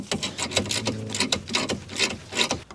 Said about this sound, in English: Just going to remove these two 13mm bolts that hold on the caliper.